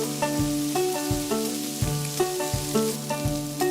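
Lamb chops marinated with garlic, olive oil and thyme sizzle in a hot grill pan, a steady frying crackle punctuated by regular low thumps and tonal clinks, close up with no talking.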